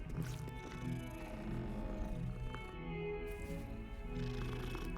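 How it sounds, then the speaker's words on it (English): A low, continuous cat purr in the video game Hogwarts Legacy, close and steady for several seconds over a faint ambient background. "Would be weird if I didn't meet a cat down here."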